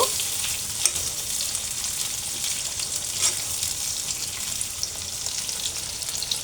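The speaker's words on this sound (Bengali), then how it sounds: "তেলের মধ্যে এটা একটু হালকা ভেজে নেব।" Lengthwise-halved eggplant fries lightly in hot oil for a puti fish tel jhal, a continuous close crackling sizzle with faint pops and no talking.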